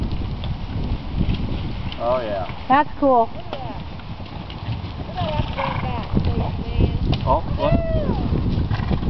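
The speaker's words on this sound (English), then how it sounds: "Holy moly, 56 horses." Herd of horses running at Rusty Spurr Ranch, with hooves drumming steadily close by and several whinnies rising above them. People talk excitedly over the galloping.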